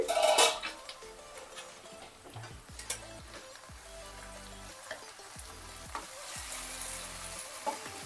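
Steady crackling sizzle of okra frying in a pan, with a few louder pops and scraping stirs near the start and scattered throughout.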